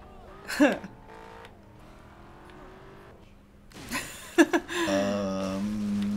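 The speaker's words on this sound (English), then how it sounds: "what kept on interrupting the engine sound for all the cars?" A front-engined car in the Carmageddon: Reincarnation video game hums with a steady low engine drone and brief bursts, then swells into a louder, tonal revving whine near the end.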